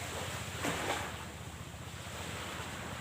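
Sea waves wash onto the shore by a coastal shrine in Pesawaran, Lampung, a continuous broad rushing roar with wind buffeting the microphone and a slightly stronger surge early on.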